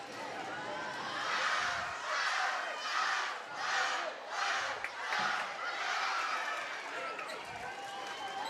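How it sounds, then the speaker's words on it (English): A loud, noisy crowd at a high school boys' basketball game between Wall and Sully Buttes roars continuously, swelling in rhythmic waves of chanting and shouting with no single voice standing out. "got a noisy crowd here"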